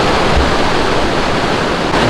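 A waterfall on the Shakadang Trail in Taroko Gorge, Taiwan, roaring as a loud, steady, close wash of rushing water with no other sounds.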